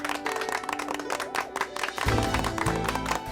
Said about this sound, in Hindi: जोरदार तालियां हो जाए हमारे ए फॉर आशा के लिए।